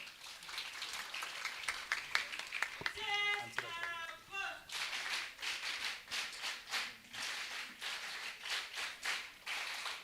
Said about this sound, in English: So we can clap for them.